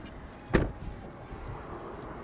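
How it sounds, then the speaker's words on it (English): One firm, close Tesla Model S door slam early on, followed by quiet low background rumble. "The sound of a door closing."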